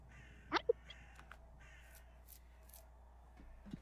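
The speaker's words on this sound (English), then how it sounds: "you hear the crows that you hadn't heard for a while that got quiet suddenly start taking off from around the trees" Crows caw as a tabletop-game sound effect: two short, sharp calls close together near the start, then only faint, quiet ambience.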